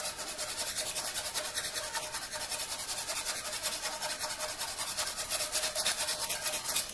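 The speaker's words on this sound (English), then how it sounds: "I take a emery board or a fingernail file" An emery board files a metal organ pipe, giving a steady close scratchy rasp in quick, even back-and-forth strokes that continue throughout.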